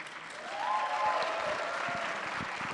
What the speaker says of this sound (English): a big round of applause once again for Dr. Fickner.